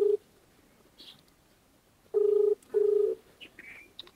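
A phone call placed in a Marathi comedy sketch: a short tone, then two clear ringback tones about half a second each, with a pause between, heard over quiet room noise and a few faint chirps.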